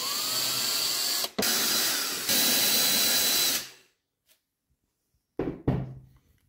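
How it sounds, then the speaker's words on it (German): Power screwdriver backing screws out of a homemade vacuum forming rig, three steady whirring bursts in a row that stop abruptly, then a quiet gap and two short clunks near the end. "Und ich mache mal die Schrauben raus,"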